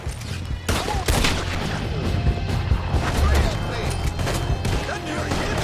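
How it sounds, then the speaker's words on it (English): A shootout in Red Dead Redemption 2 bursts with rapid, loud gunfire, sharp overlapping shots and crashing impacts packed densely across the whole stretch, with voices calling out beneath the firing. "We'll have to shoot our way out."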